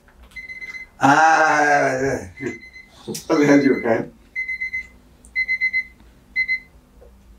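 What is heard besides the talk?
alarm clock ringing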